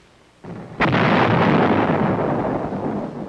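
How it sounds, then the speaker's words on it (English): A 105 millimeter howitzer fires one loud, close blast, preceded by a brief thump, and the heavy boom rolls on and slowly decays over the next few seconds. "a 105 millimeter howitzer named Joe"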